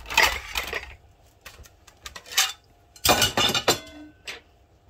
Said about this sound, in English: I'll use a fork to flip them over.